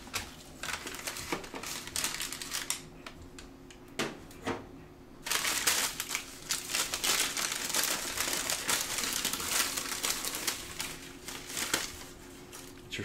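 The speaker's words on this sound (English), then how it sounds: "See, there's a Starbucks bag." A Starbucks paper bag crinkles and rustles steadily up close, continuous crackly handling noise with a brief pause midway, louder in the second half, with no talking over it.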